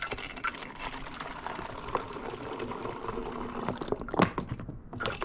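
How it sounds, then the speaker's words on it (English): Water poured from a bottle into a container on a trail hike, a steady close liquid gurgle and splash lasting several seconds, with a brief louder burst near the end. "I'm just gonna pour it in here and then chug it."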